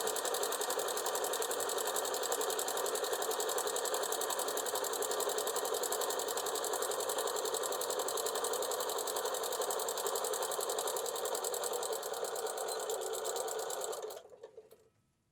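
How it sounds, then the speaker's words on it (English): A domestic sewing machine runs continuously for about fourteen seconds as it top stitches across an apron pocket, giving a fast even whirring chatter at a steady speed, close but fairly quiet, before it slows and stops. "we're going to line it up with our foot, and we're going to stitch straight across, keeping those bottom edges lined up"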